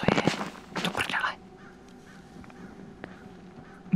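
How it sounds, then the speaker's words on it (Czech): Crows caw loudly in a few harsh bursts up close in the horror game Don't Scream, then the scene drops to a quiet, faintly rustling ambience with an occasional soft tick. "Mi tady prší ptáci mrtví"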